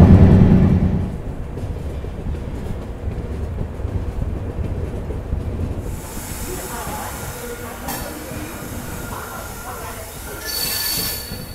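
The Pune Amravati express runs at speed with a loud low roar that eases into a steady rattling rumble, then a brighter hiss and wheel squeal rise later on.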